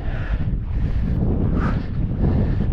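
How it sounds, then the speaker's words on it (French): Strong wind buffets the microphone on a mountain hike to the Pic de Behorleguy, a loud, rumbling, continuous roar with gusty swells and no speech. "Ah, là il y a du vent là. C'est pas chaud."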